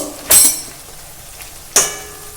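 Onion paste goes into a pan of frying onions for chicken curry, making two sharp loud sizzling bursts about a second and a half apart, each fading quickly into quieter crackling.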